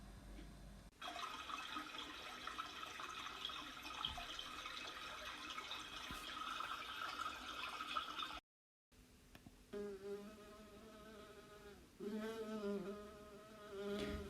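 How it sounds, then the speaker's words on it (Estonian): A big striped wasp buzzes in a continuous drone, close and fairly steady, breaking off briefly before a second buzzing passage with wavering pitch. "Ega suur triibuline herilane sumises."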